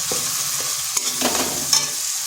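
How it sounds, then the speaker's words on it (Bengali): Spices frying with tomatoes in a pan, stirred through a steady sizzle with a few louder scrapes and clatters over about two seconds, no voices. "এরপরে টমেটোর সাথে ভালো করে কষিয়ে নিতে হবে।"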